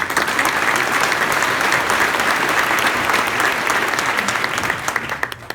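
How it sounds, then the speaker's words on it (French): An awards-ceremony crowd at the Trophées du Champagne 2015 applauds painter Raphaël Laventure, a dense, loud wash of clapping that holds evenly throughout and thins into scattered claps at the very end. "On peut l'applaudir."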